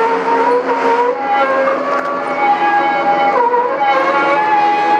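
A loud, steady mechanical drone with grinding, whining tones that shift slightly in pitch, from a four-car cable ferry crossing the Vivari Channel at Butrint, Albania.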